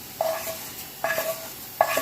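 A spoon stirs roasted vermicelli into milk in a pan for caramel semiya payasam, giving three quiet ringing metallic clinks against the pan, each followed by a soft swishing scrape.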